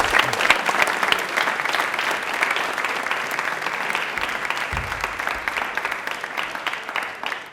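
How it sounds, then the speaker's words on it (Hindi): A TV quiz show's studio audience claps enthusiastically for a contestant, a continuous loud burst of applause with a brief low thump partway through. "तालियां सुधांशु के लिए जोरदार हो जाएगी।"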